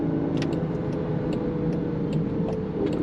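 Engine of a 2025 Range Rover Sport Autobiography luxury SUV downshifting while driving, a steady low drone of engine and road noise with brief rises in pitch, heard from inside the cabin.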